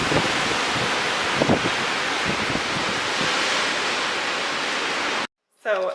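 Strong windstorm gusts near 93 km/h roar as a loud, continuous broadband rush with buffeting thumps. It cuts off abruptly near the end, and a voice starts briefly.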